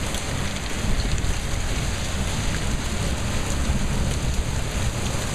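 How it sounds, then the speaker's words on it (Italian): Heavy rain pours in a thunderstorm with lightning, a loud, steady, dense hiss of rainfall that stays even throughout, with no distinct thunder clap and no voices. "Non mancano dei fulmini terrificanti che squarciano il cielo"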